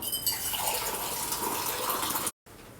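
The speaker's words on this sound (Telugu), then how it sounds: "ఇది ముందర బాగా కడుక్కుందాము మూడు సార్లు కడుక్కున్నాక నీళ్లు పోసుకుని నానబెట్టుకుందాము" Water rushes and swishes steadily as idli rice is rinsed in a pot, then stops abruptly before resuming briefly.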